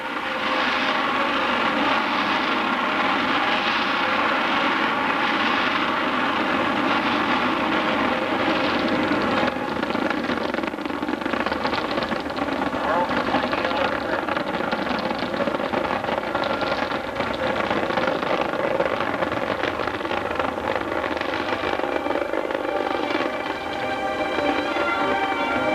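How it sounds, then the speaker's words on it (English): Apollo 10 rocket launch, a deep, sustained, rumbling roar that holds steady and loud for the whole stretch. "the rocket cleared the pad."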